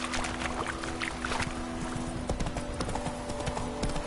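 The horse Roach gallops in The Witcher 3 video game, hooves clip-clopping in a quick, steady rhythm close up, over a constant background of ambient game sound and low hum.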